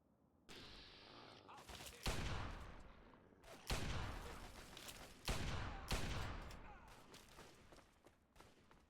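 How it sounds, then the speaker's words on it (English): Enemy gunfire in Fallout 3 rattles in several sharp bursts a second or so apart, each volley cracking loudly and then fading, with a faint voice between them. "these guys are shooting this guy"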